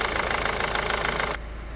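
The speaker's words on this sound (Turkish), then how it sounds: "Enjektörden çıkan sesi duyuyorsunuz." A worn-out car engine idles close by with a rapid, even ticking clatter from the fuel injectors over a steady hum; the level drops slightly near the end.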